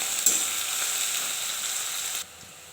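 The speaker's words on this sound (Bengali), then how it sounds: "পেঁয়াজ ভাজা হয়ে গেছে" Onion, green chilli and garlic fry in oil in a pan, giving a steady close hiss of sizzling with a brief scrape near the start before the sound drops away at the end.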